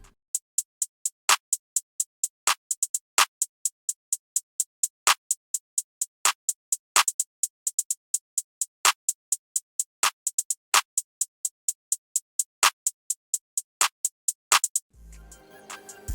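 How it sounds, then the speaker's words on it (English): Programmed hi-hat and clap pattern in an FL Studio beat: crisp, steady ticking hi-hats at a quick even rhythm with sharper clap hits landing periodically, close and dry, ending in a brief burst of noise. "And then the hi-hat sounds like this."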